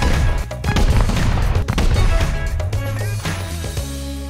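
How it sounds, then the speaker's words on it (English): Repeated explosions and rapid gunfire-like bursts during a base raid on sheet metal doors in the game Rust, loud and dense with sharp cracks and deep booms, no talking. "Right, watch out for the explosions, everyone."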